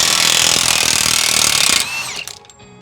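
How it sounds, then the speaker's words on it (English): A power tool hammers loose a 32 mm CV axle nut on a 2012 Chevrolet Orlando, a loud, close, continuous rattling burst that winds down after about two seconds into a fading whine. "we're gonna take off the axle nut now. It's a 32 mil."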